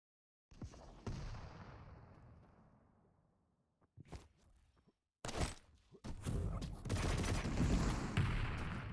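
Railgun shots ring out in a competitive arena shooter match: an isolated sharp crack with a long decaying tail, two brief bursts around the middle, then a dense stretch of loud firing and explosions toward the end.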